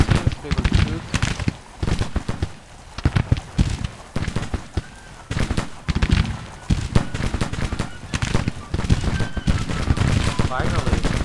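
Cannon fire in a video game battle comes as dense, loud, booming volleys mixed with rattling gunfire, hoofbeats and shouted voices throughout.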